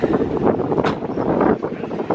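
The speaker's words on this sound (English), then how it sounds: "It's super windy." Strong wind buffets the microphone with a low, continuous rumbling roar and gusty swells throughout.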